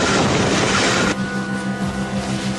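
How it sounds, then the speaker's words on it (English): An approaching train rumbles loudly and steadily, a broad rushing roar that drops slightly partway through and continues with rail noise and a faint tonal whine. "There's a train coming."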